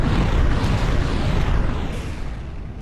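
A weapon firing in the video game From the Depths: a loud, deep, rumbling explosive blast that fills the whole clip and slowly fades.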